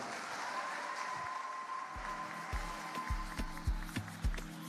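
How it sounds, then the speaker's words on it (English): An anniversary event audience applauds after a speech by the Air Peace CEO, a steady crowd wash of clapping joined by heavy low thumps that grow louder toward the end. "let the applause roll, ladies and gentlemen"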